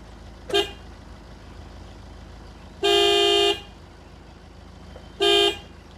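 A Maruti Swift's horn with a faulty horn button honks three times nearby: a short toot, a longer steady blast, then another brief honk, separated by quiet idling pauses.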